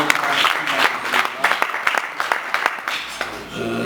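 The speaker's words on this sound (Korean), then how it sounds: "박수 한번 쳐줍시다" Banquet audience at an annual church association general assembly in a hotel gives a round of applause, uneven claps with sharp individual hits, while voices murmur underneath.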